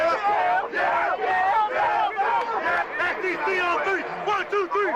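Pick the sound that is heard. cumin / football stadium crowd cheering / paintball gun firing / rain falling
football stadium crowd cheering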